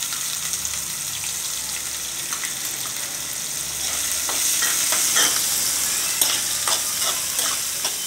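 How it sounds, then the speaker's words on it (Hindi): Onions added to hot oil with dry chillies, cardamom, cinnamon and cloves for a desi aloo-anda curry, sizzling steadily and close, with a louder frying surge and stirring scrapes in the second half. "अब मैं इसमें प्याज डाल रही हूँ"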